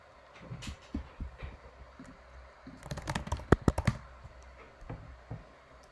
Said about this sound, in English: these typers have been typing so much today